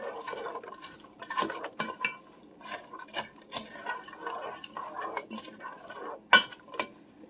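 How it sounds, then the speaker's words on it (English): A spoon stirs black pepper into food in a Dutch oven, giving irregular scrapes, knocks and clinks against the pot at close range, with no talking. "Give it a stir."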